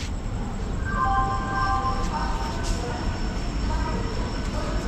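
A MEMU train pulls into Tambaram station with a low rumble, thin squealing wheel tones rising and fading over the steady noise of a crowded platform.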